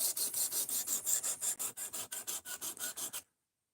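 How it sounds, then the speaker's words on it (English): A knife blade is drawn across a fixed angle sharpener in about a dozen quick, even rasping strokes, bright and close, ending abruptly in silence. "This right here is a fixed angle sharpener."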